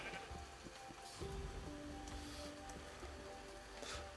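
Sheep in the Minecraft video game give a couple of faint bleats over a steady background of rain-like ambient noise, with no talking.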